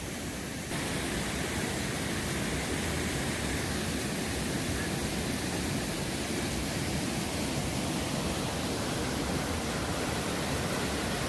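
Water pours down off the mountain at Vrelo Bosne nature park in Bosnia, a dense, continuous rushing roar that stays strong and even from start to finish, with no talk.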